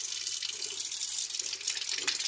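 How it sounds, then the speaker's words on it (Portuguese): Cold water runs steadily from a tap into a bowl of homemade butter being washed, a close, continuous hiss-like stream with no talking. "Vou colocar uma água fria aqui."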